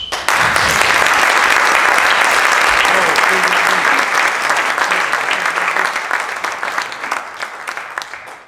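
Audience at a round-table talk on political conflicts and jihadism in Russia breaks into loud, sustained applause, many hands clapping densely for about eight seconds before gradually thinning out.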